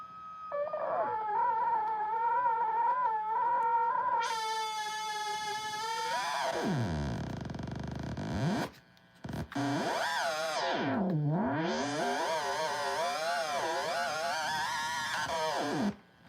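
A small synthesizer set to a square wave plays loud, buzzy tones that sweep and wobble up and down in pitch, with brief dropouts, alone without talk.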